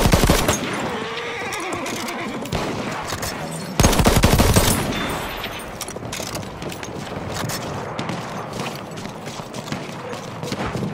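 Enemy cavalry charging in the World War I shooter Battlefield 1 at Nivelle Nights: horse whinnies and hooves mixed into dense, loud machine-gun and rifle fire, with a sharp burst about midway.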